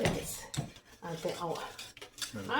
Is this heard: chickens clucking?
no